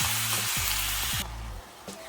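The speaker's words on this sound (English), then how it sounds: "sausage and our beef is starting to brown really good" Ground beef and Italian sausage sizzle hard as they brown in a pan, a steady loud frying hiss that thins out partway through, with a few faint utensil bumps and no talk.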